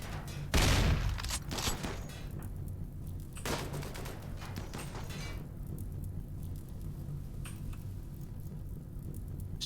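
Gunfire from colonists in RimWorld, a sharp loud shot burst near the start followed by a few fainter shots, then a low steady background hum.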